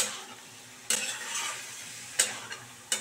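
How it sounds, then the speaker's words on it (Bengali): Cauliflower with spices, cooked with cornflour and milk, sizzles softly in a pan while a spatula scrapes and stirs in three sharp, close strokes. "এবারে কিন্তু খুব ভালো করে আমাকে কষিয়ে নিতে হবে যাতে সম্পূর্ণ মশলাটা এই ফুলকপির মধ্যে ঢুকে যায়।"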